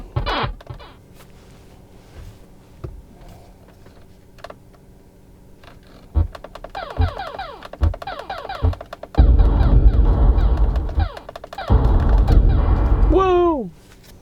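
Simulated gunfire from an arcade shooting game on a Tesla Model 3 touchscreen, fired with the steering-wheel controls: scattered sharp shots and bursts grow louder and denser, ending in a rising electronic whoop, with speech now and then.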